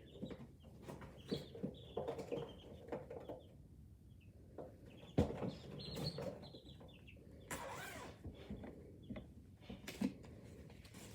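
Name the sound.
chicken clucking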